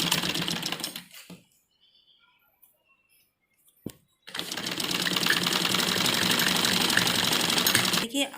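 A sewing machine stitches a child's Afghani salwar in two loud, steady runs: a brief one at the start, then a long continuous run after a few seconds of near silence broken by a single click.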